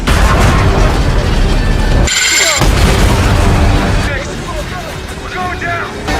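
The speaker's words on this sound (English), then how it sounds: "Amidst gunfire and explosions, Okafor takes a fatal hit." Loud battle sounds from a TV drama, with booming gunfire and explosions, come in dense bursts, break off abruptly, then return more faintly, while a voice speaks over them.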